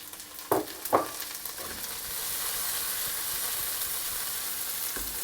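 Peas frying in a pan with softened shallots for a pea and bacon risotto, a few sharp sizzling bursts as they hit the pan settling into a steady hiss.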